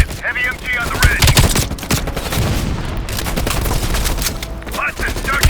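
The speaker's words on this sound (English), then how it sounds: "Heavy MG on the ridge!" Loud, continuous bursts of heavy machine gun fire in the Call of Duty: Black Ops Cold War video game, rapid dense shots mixed with booms and battlefield noise, close and dominant throughout.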